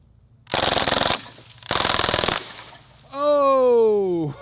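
A BB gun fires rapidly at a grape soda 2-liter bottle in two dense, fast bursts of snapping shots, followed by a loud rising whistle-like tone near the end.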